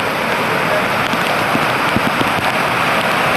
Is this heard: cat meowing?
no